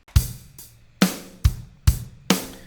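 Sludgy, basic indie rock drum kit in a Portland style, with a punchy kick and snare and hi-hat. It plays a steady, loud beat of close, alternating hits with sharp attacks and short decays, and no voices.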